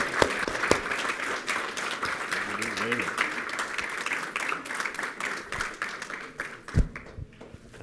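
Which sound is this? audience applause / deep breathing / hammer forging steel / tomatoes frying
audience applause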